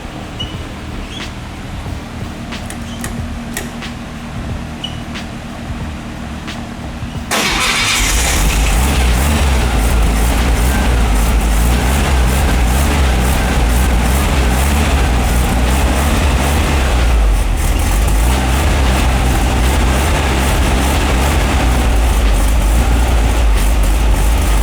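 A VW Beetle engine on a run stand starts after several seconds of quiet, then runs steadily and loud for the rest, with a continuous low rumble and revving, no voices.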